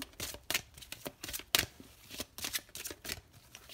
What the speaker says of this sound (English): These cards are huge, by the way, to shuffle.